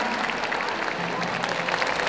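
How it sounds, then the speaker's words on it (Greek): An audience at a Greek regional federation cultural gathering applauds in a continuous, even wash of many hands clapping, moderately loud and sustained throughout. "Το πιο ζεστό μας χειροκρότημα"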